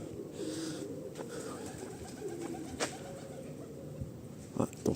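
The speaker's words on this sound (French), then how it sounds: "c'est une tourterelle." Outdoor pigeon-family calls, a turtle dove cooing in soft repeated phrases over a steady background hiss, with a few brief sharper sounds near the end.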